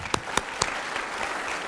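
Clapping from an afternoon audience honoring Team Canada Special Olympics athletes: a few sharp, separate claps open, then settle into a soft, diffuse patter of applause.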